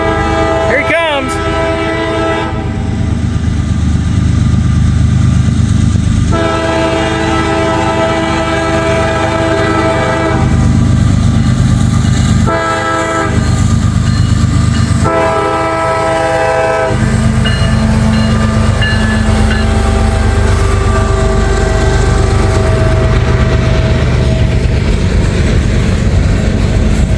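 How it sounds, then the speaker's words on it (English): A CSX freight train rumbles steadily past, blasting its horn in several long, loud blows over the first half before the horn falls silent and the heavy rolling rumble continues close by. "I hear a train now"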